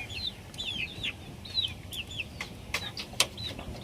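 Boston Roundhead chickens clucking and chirping in a soft, busy chorus of short calls close by over low background noise, with no talking.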